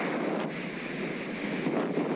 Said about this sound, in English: Such is the strength of this headwind.